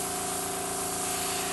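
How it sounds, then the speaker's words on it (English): An airbrush sprays black color onto a buttercream cake, giving a steady close hiss with a faint motor hum running evenly throughout. "You want to keep your airbrush high enough above"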